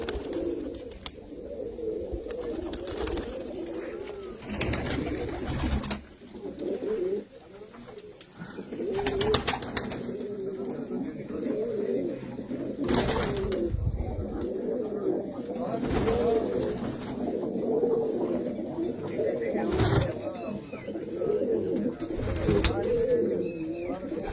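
Pigeons coo in a steady, overlapping chorus at a village house, close and continuous, while people talk over them now and then.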